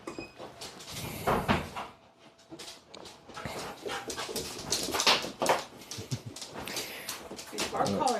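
A dog wearing a bark collar whimpers and pants close by during a live hitchhiking stream, with short whines scattered among door or cupboard clatter and people talking.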